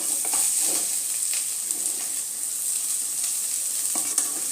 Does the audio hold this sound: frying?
yes